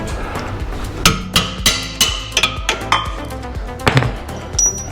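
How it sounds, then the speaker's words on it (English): Sharp metallic hammer strikes on a suspension bolt, about a dozen irregular blows ringing out close up, with no talking. "Now I need a hammer"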